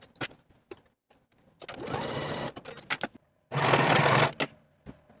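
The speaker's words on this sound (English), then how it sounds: "Sew these seams with a 5/8 inch seam allowance" A sewing machine stitches the side seams of a jumpsuit in two close, loud whirring runs, with clicks and fabric handling between and around them.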